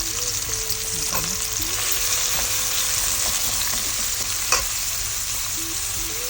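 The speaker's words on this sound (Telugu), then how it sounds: "డీప్ ఫ్రై కానివ్వండి" Onions deep frying in hot oil for chicken biryani, a loud constant crackling sizzle with occasional stirring clinks and no speech.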